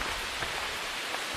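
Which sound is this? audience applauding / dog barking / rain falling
rain falling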